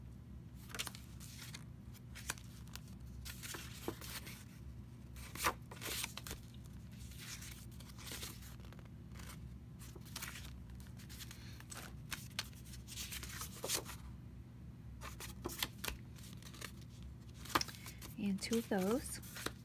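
Paper recipe cards are handled and shuffled in scattered soft rustles, flicks and taps, close and quiet, with a voice speaking briefly between them.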